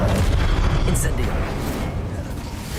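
Incendio fire spell cast in Hogwarts Legacy: a loud whooshing boom of flame at the start that fades out over a couple of seconds, with a voice speaking over it.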